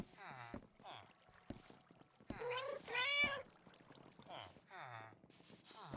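Cats in Minecraft meowing several times in short, separate calls, close and clear, with someone talking quietly between the meows.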